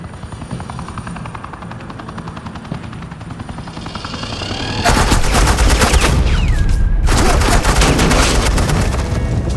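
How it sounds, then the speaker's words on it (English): Sustained bursts of suppressing gunfire from the Batman: The Enemy Within video game erupt loudly about halfway through, dense and rapid, layered over a steady helicopter-like rumble that runs throughout. "suppressing fire."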